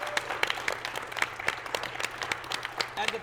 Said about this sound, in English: we have to make sure that we give a little round of applause to Chelsea and to Kate and to Devin